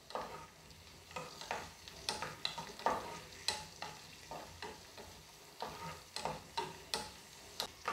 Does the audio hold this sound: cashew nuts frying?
yes